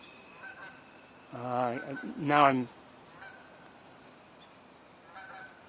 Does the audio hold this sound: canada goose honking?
yes